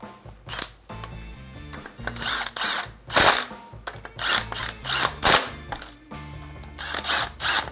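A power tool drives and tightens bolts from the bottom up while reinstalling a trimmed stand, giving repeated short whirring bursts with ratcheting clicks, close and loud.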